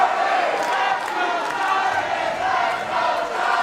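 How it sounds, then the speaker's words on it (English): A divided wrestling crowd at an indoor pro wrestling show in the United Irish Cultural Center roars steadily, with chanting and cheering swelling and rising throughout at a constant loud level. "The crowd right here inside the United Irish Cultural Center, they are divided in half"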